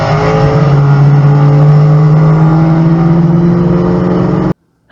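A car doing a 100-foot rolling burnout gives off a loud, sustained engine roar, with a strong droning tone that rises and falls slightly. It cuts off abruptly near the end.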